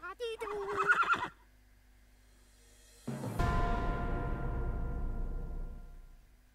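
A horse whinnies loudly and close by in the video game Rock of Ages 2; after a brief pause a burst of heavy, rumbling noise fades out slowly.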